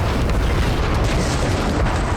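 A 1,500 kg Russian thermobaric bomb detonating in the war in Ukraine, heard as a loud, deep, sustained rumbling boom that fills the whole moment without a break, with no voices.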